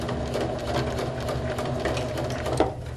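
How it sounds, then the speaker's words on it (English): A sewing machine runs steadily and close up while sewing across fabric with a back stitch, its motor humming and needle chattering continuously. "we'll sew across here, and I'm going to back stitch"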